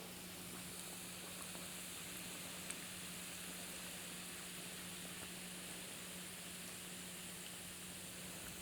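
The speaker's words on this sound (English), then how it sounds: "So, and then you start to deep fry it." Hotdog deep frying in hot oil, a faint, even, continuous sizzle with a steady low hum beneath and no talking.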